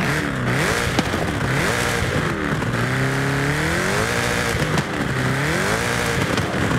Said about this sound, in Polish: jestem ciekawy jak brzmi. Posłuchajmy. Mamy tutaj kompresor zainstalowany.